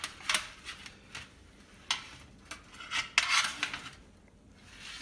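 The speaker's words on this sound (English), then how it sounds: "As we chase the steak around the pan, I put my steak on my plate" A steak is pushed around a pan and lifted onto a plate, producing a string of scraping, rasping metal strokes and clinks, loud and close, with short pauses between them.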